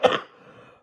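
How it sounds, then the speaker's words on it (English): A single harsh cough from a sick adult with pneumonia, close and loud, fading into a brief raspy tail and quiet breath. "I'm coughing my head off"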